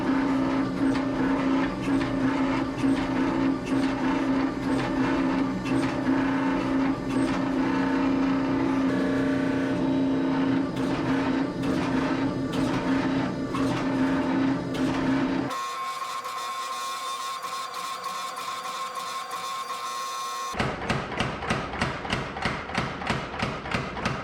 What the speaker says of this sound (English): we can do that on the forging press with the half round dies